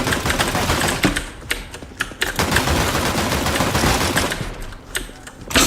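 Rapid gunfire in CS:GO, sharp repeated shots in quick bursts with brief pauses, loud and close, with keyboard clatter mixed in.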